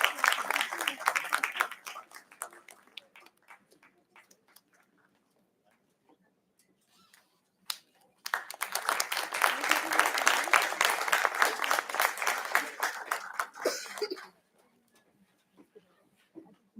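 Conference audience applauding an award recipient at a heritage management event: a burst of clapping fades out after about two seconds, then scattered claps build into sustained, loud applause lasting roughly six seconds before stopping abruptly.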